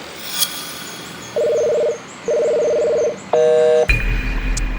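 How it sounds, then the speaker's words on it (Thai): Two steady ringback tones sound in a row, followed by a short burst of dialing beeps and then a click into background noise. "ลองโทรหากิฟดูว่าเขาทำอะไรอยู่"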